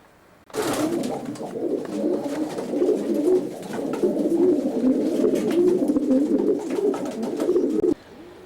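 Racing pigeons, including a Van Reet sprinter, cooing steadily inside a big, spacious loft, a close, continuous layered murmur of soft coos that runs for several seconds without speech.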